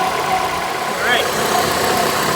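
A 2012 Ford Escape engine idles steadily with its AC compressor engaged during a refrigerant recharge, a continuous mid-pitched hum with a brief whine partway through, running the whole time.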